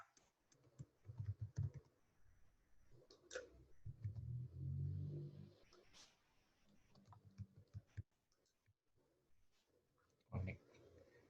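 Rapid clicks of a computer keyboard as names and details are entered into offline tax-practice software, scattered taps under a person talking throughout.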